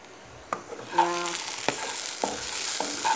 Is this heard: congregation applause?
no